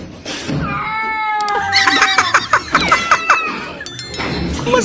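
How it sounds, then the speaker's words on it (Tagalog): A frightened cat yowls in a string of loud, drawn-out wavering cries, close by, with a few sharp knocks mixed in and voices briefly heard near the start and end. "Mas nauna pa natakot yung pusa."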